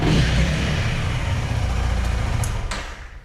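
A Honda Rebel 300 motorcycle's engine and exhaust run with a steady, smooth, quiet hum up close, followed by a couple of faint clicks near the end.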